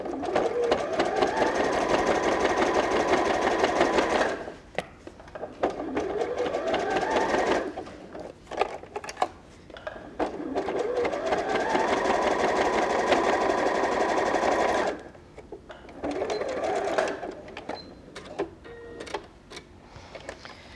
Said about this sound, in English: what I'm going to go back and do is just zigzag round the lining to weld it in place again